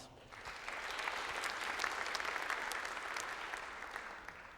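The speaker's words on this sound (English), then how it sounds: "let's clap for all of these at once" A crowd at a startup demo day event in Eurasia applauds together. Steady, dense clapping swells slightly and holds for several seconds, heard at a modest distance and fairly faint.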